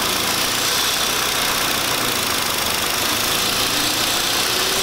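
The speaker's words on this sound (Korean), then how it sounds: "시동을 다시 걸었습니다. 다시 한번 해보겠습니다. 가스를 이제 적당하게 한번 넣어보겠습니다." A Hyundai Sonata engine, prone to rough idle and trembling at startup, running after a restart with moderate throttle applied, producing a loud, steady, close-up drone with little change in pitch.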